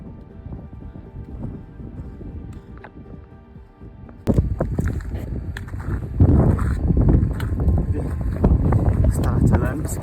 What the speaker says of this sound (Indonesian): ditambah lagi angin yang lumayan kencang